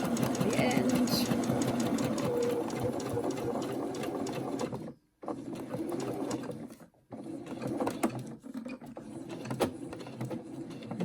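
A sewing machine stitches a reversible washable face mask, running in a steady mechanical whir with two brief stops, while a person talks over it.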